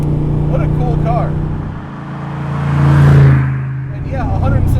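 Engine of a Superformance 1965 Shelby Daytona Coupe replica drones steadily from inside the car, swelling briefly as it pulls, while someone talks over it before and after.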